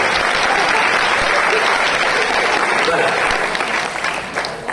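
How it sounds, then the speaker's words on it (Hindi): A school audience gives loud, dense applause after a motivational speech, sustained clapping from a large crowd that tapers slightly near the end. "उनके लिए एक बार जोरदार तालियां हो"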